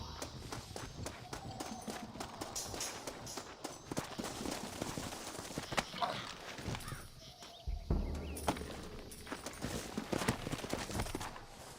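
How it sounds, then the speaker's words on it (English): Horses' hooves clopping and galloping in the Red Dead Redemption game, quick uneven beats moving along amid gunfire bursts and game ambience, with voices talking at times. "Looks like Carlos left us some horses."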